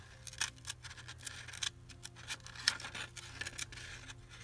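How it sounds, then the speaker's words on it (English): Scissors snip paper in short, crisp bursts while a paper cutout is fussy cut for a junk journal craft project, the cuts close and fairly quiet over a low steady hum. "We're going to fussy cut this."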